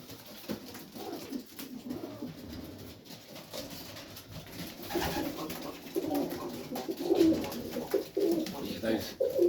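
Pigeons in a hot Melbourne backyard loft coo softly in low, repeated warbling calls, with someone talking over them at times.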